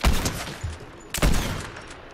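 Gunfire in the video game Fortnite: two loud bursts of shots, one at the start and another about a second later, each fading quickly with no voices over them.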